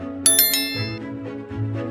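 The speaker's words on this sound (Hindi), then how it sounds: "don't forget to hit the notification bell" A bright notification bell chimes a few quick rings in succession, clear and close, ringing out over a low sustained tone.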